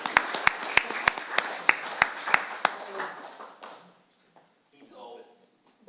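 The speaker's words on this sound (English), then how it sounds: "Give him a round of applause." An audience claps for a jazz horn player at a Kansas City jazz show honoring Charlie Parker, sharp scattered claps in a brief burst that quickly thins out and fades to near silence.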